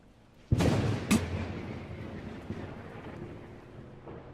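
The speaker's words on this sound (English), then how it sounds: "As I heard the lightning strike from outside" Two sharp thunder cracks in quick succession, followed by a long low rumble slowly fading away.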